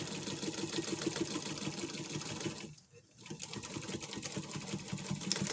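A sewing machine runs steadily while mending an old sheet, its rapid stitching chatter pausing briefly midway before resuming for the backstitch, close and continuous.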